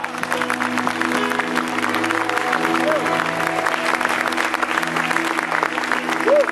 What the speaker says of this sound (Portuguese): Vamos dar salva de palmas para Jesus